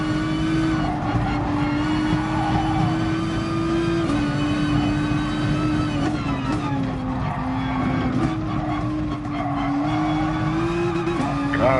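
A Nissan GT-R NISMO GR3 race car in Gran Turismo Sport drones steadily in fifth gear, its engine note holding a sustained pitch with brief dips where revs settle, loud and continuous, with no talking.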